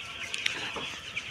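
Seven-day-old broiler chicks on a farm in hot weather give a few scattered, faint chirps and cheeps against a soft, steady background hiss.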